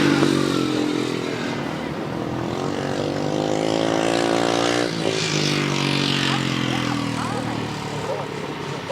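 Grasstrack racing motorcycles roar past at a championship race, loud engines whining and rising in pitch as they pass near, with a commentator's voice over the public address mixed in beneath the engine noise.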